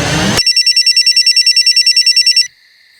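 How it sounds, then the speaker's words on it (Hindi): A telephone rings with a loud, rapid electronic bell trill that pulses steadily for about two seconds after a brief burst of noise, then cuts off to a fading tone. "हसमुख भाई का फोन है।"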